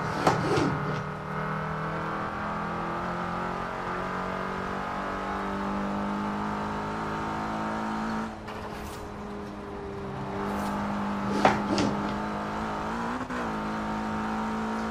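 An Opel Astra's engine drives in Forza Horizon 4, a steady, sustained engine tone with rising revs and brief squealing accents, loud and close, with no talking.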